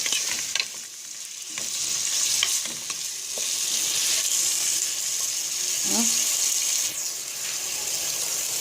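Meat frying with spices and salt, a loud steady sizzling hiss with occasional stirring scrapes, close and continuous.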